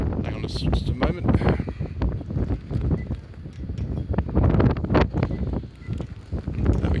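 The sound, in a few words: wind blowing outdoors around the car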